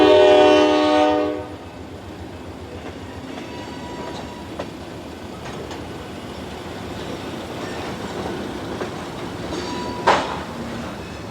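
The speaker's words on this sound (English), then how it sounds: "That, of course, is an old freight train." An old freight train rumbles past steadily with a loud horn blast at the start and a sharp squeal near the end, continuous rolling noise throughout.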